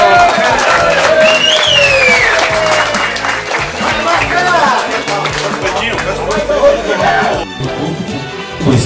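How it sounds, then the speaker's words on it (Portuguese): Audience applauding and cheering at an evening event honoring a boxer with 110 fights and 75 knockouts, a loud, dense burst of clapping and crowd noise that continues steadily for several seconds. "isso aí merece uma salva de palmas"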